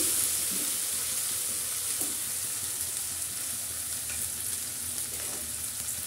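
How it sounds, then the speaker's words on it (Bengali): Beef biryani masala with chili frying hard in a pot, a loud, constant close sizzle with faint stirring underneath and no voices. "এরপর আবারও কষিয়ে নেব। খুব ভালো করে কষিয়ে নিলাম"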